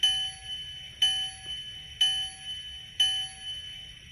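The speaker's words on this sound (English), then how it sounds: "How about a bell?" A bell sound effect rings four times at steady one-second intervals. Each clear, bright ding decays slowly before the next strike, with nothing else heard alongside it.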